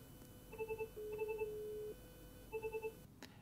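A car infotainment hands-free system plays phone call tones: groups of quick electronic beeps and a longer steady tone, repeating over a low hum, quiet and with no voices.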